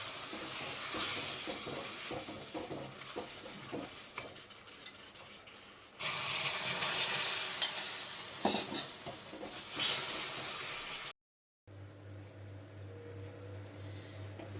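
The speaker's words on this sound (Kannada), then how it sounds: "ಈಗ ಸ್ವಲ್ಪ ಆ ಬೆಲ್ಲದ ಸಿರಪ್ನ ಇದಕ್ಕೆ ಹಾಕಿ ಮಿಕ್ಸ್ ಮಾಡ್ಕೊಳ್ಳೋಣ" Wheat flour and moong dal halwa is stirred with jaggery syrup in a pan, making close, continuous scraping and sticky churning with metallic knocks, in two louder bursts broken by a brief silent gap.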